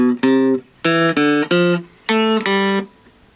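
A three-string cigar box guitar plays the La Bamba lick slowly, six clear plucked notes in an uneven rhythm, each ringing briefly with bright twangy overtones, close and solo without talking.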